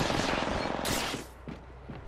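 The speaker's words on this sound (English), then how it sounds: "Opening fire on the enemy." Rapid gunfire from an Apex Legends ranked match, a dense burst of loud close shots with a few scattered single cracks trailing off afterward.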